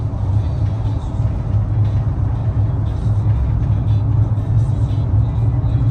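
Loud, steady road rumble from inside a moving truck, with a constant low drone and a dense rattling texture running throughout.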